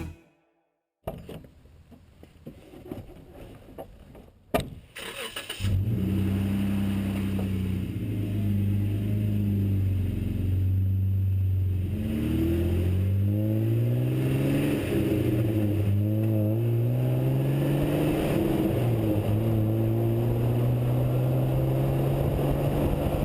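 Jeep Wrangler JKU starts up after a few clunks and rustles, then drives off with a steady engine drone that rises and falls through several gear changes, close and moderately loud, no talk.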